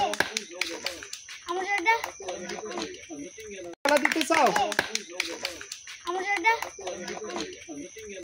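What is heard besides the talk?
audience clapping for prize winners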